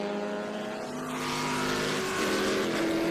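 Race cars battling on the Sebring circuit during an SVRA vintage race, a continuous engine roar rising in pitch and growing louder as the cars pass, with no talk.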